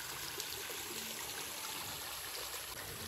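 Water runs steadily out through a drain cut into a flooded rice paddy, a continuous close trickling and gurgling rush with no pauses.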